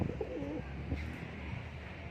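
Pigeons in a loft in Karnataka give soft, low rolling coos close by, one call after another over a faint, steady airy background.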